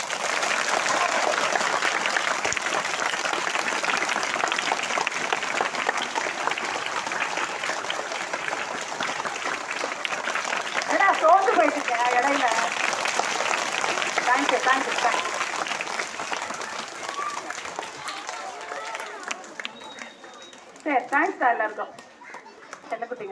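Primary schoolchildren in a panchayat union school classroom in Pullambadi clapping loudly and continuously for about twenty seconds, a dense, close burst of many small hands; the applause fades, and an adult voice speaks at the end.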